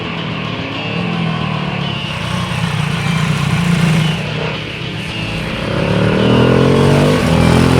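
A 2012 KTM Duke 690 motorcycle engine revs hard and climbs in pitch toward the redline, dips briefly, then surges again; loud and close, with a rough single-cylinder character.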